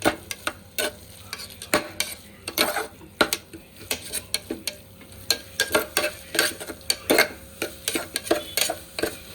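Marinated mutton being sautéed with masala in a pan, a spoon scraping and stirring in irregular clanks and scrapes over a soft sizzle, fairly close and moderately loud.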